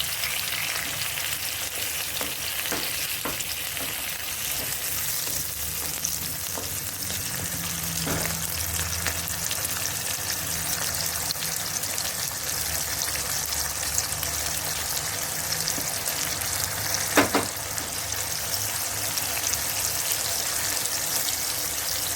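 Tomato and green chili paste with fried onion paste and spices frying in a pan as a Raseele Gobhi Aaloo Matar dish is cooked, a steady, close, dense sizzle throughout with occasional stirring scrapes and clinks.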